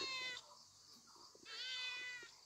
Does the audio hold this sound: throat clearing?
no